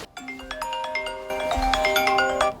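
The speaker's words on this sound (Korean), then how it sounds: "마침 전화가 오네요." A melodic electronic ringtone plays alone, a bright sequence of sustained chiming tones repeating steadily for a couple of seconds, then cutting off.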